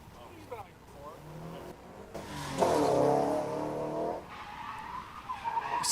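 A car at a test and tune event climbs and drops along a berm, its engine swelling into a loud, sustained roar midway before easing off, with speech over parts of it.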